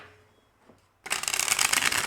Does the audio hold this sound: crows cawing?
no